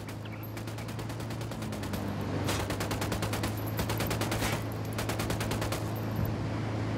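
Sustained automatic gunfire from a tactical military shooter, Ghost Recon Wildlands, with rapid repeated bursts over a steady low hum, dense and continuous across the whole stretch with no talk.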